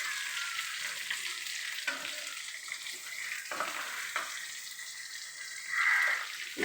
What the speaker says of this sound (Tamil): ரைஸ் செய்கிறதுக்கு முக்கியமாக இஞ்சி பூண்டு பேஸ்ட்டு போட்டு வதக்கிட்டு